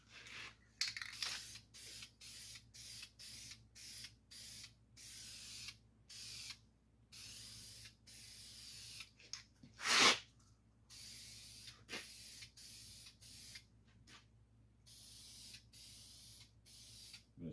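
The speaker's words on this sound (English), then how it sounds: "I'm just gonna use a guide coat here." Short repeated bursts of aerosol guide coat sprayed over the leftover shiny spots on a 1970 Datsun 510 body being readied for paint, hissing on and off in quick close pulses with brief gaps and no talking.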